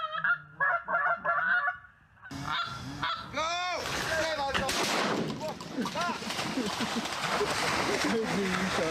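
Geese honk loudly and repeatedly in a dense flock during a goose hunt, with overlapping calls near and far and gunshot-like bangs among them.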